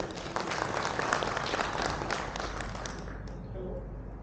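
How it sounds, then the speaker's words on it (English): A conference audience at a Dell Technologies event gives sustained, dense applause to welcome a speaker onto the stage. The clapping holds steady, then thins out and fades near the end. "Let's welcome him with a huge cheer,"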